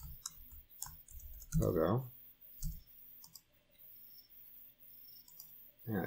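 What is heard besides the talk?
typing on a computer keyboard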